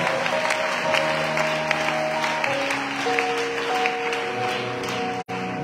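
A congregation at a church service applauding loudly, sustained dense clapping with a musical tone ringing underneath, cutting off abruptly near the end.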